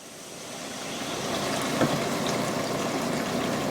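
Whole milk pours steadily into a soup pot holding a cooked flour mixture, a soft continuous liquid rush that builds slightly and then holds, close and alone.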